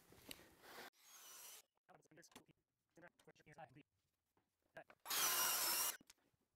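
A track saw makes a cut through wood veneer in a workshop, a short loud burst of saw whine near the end, preceded by quieter handling noises and a person speaking.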